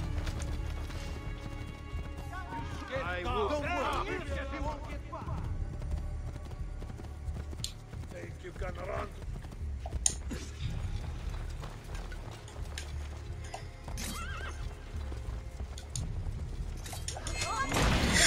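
A horse gallops with steady clip-clop hoofbeats in Assassin's Creed II, set amid game music and effects while someone talks excitedly over it.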